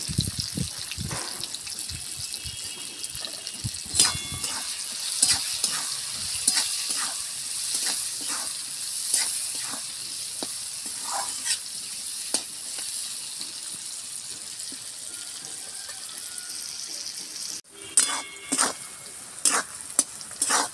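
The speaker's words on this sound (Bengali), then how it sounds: "আর একটু ভাজবো পেঁয়াজটা" Chopped onions with a little salt sizzle and fry steadily in a pan, with repeated stirring scrapes and clicks over the constant hiss, close up and with no talk.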